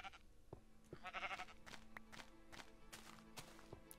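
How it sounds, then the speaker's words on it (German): A sheep in Minecraft bleats once in a wavering, mid-pitched call amid quick regular footstep taps and a soft game backdrop, all fairly faint. "Oh, ein Schaf."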